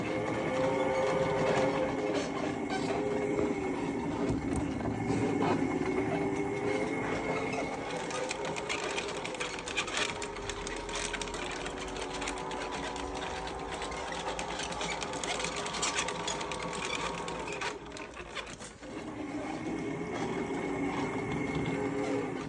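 The electric drive motors of an Armortek Tiger RC model tank run with a steady, close mechanical whir and buzz that shifts in pitch while it drives, with a brief dip near the end and no talking.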